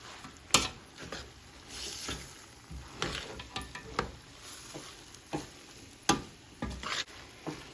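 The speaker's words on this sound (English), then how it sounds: "So always kind of mix it in right at this point." A spoon stirs spaghetti meat sauce in a pan, giving soft, irregular scrapes and wet clacks at close range over a faint sizzle, with no talking.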